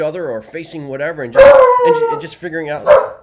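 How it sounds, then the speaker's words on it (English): A dog barks and howls loudly in the middle of a man's close, steady talk, its drawn-out, wavering calls rising over and between his words. "Sorry, that's my dog."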